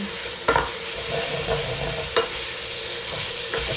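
Impossible plant-based ground burger frying in oil in a pan that is not non-stick, a constant close sizzle punctuated by four distinct scraping stirs of a utensil, with no talking.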